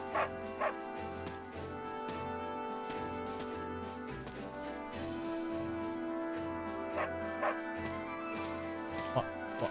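A dog barks and yips in the video game Fire Emblem Three Hopes, a few short sharp barks scattered over a steady game music background, fairly faint.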